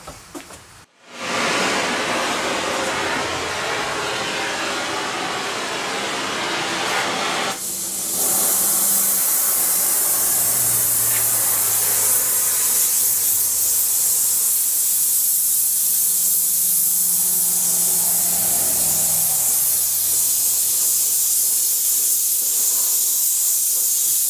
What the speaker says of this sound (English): let me get the welding torch out, and we'll put the little green screen on again, and we'll bronze this on